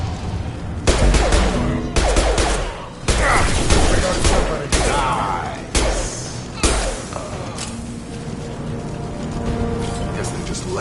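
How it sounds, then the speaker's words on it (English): In the sci-fi shooter Mass Effect, bursts of gunfire crack in quick volleys with heavy thumps between them, fairly close and loud, over faint game sounds. "Blue Suns and Vorcha shooting anything that moves."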